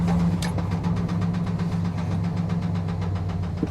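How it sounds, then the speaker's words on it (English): A worn truck engine at a Copart salvage auction lot runs steadily up close, with a dense low rumble and a faint, persistent knock beneath it. No one speaks. "Is the engine knocking too?"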